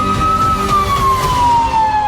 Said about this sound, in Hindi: सायरन बजाती गाड़ियां